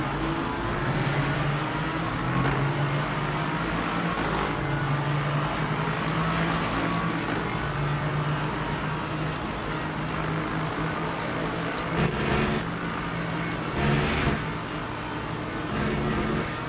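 A steady, droning car engine in a racing video game hums continuously throughout, with a constant low growl and occasional slight surges, loud and unbroken, with no voices.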